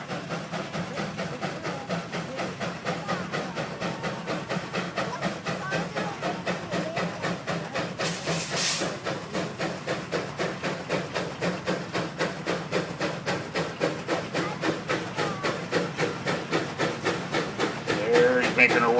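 A 1905 Case tractor engine labours under load at a tractor pull, its slow, steady exhaust beats chuffing in an even rhythm throughout, growing slightly louder toward the end, with a brief hiss of steam partway through.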